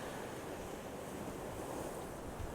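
Gentle ocean waves wash steadily against a Maui, Hawaii shore, a continuous soft roar of surf with light wind and no voices.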